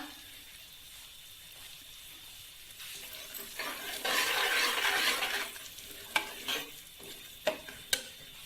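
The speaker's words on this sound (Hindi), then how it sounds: "साथ हम चम्मच हिलाते जाएंगे" Semolina (suji) for halwa being stirred and roasted with a spoon in a pan, a soft steady scraping and sizzle that swells in the middle, followed by a few sharp clicks of the spoon against the pan near the end.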